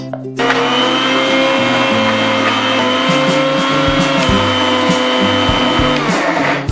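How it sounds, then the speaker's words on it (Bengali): A kitchen mixer grinder whirs loudly and continuously as it grinds soaked biuli urad dal with a little water, its motor pitch shifting in steps as the load changes, starting and stopping abruptly. "মিক্সিটা চালিয়ে বেটে নেব।"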